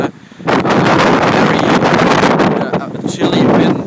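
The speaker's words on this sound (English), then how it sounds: "chilly wind blowing, and everyone is just relaxing here at the seaside in Hamburg" Chilly wind blows hard across a microphone at the seaside in Hamburg, a loud continuous buffeting roar with gusts rising and falling throughout.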